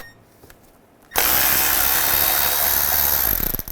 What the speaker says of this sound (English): There's a screw right here. Use the same T30 from up top.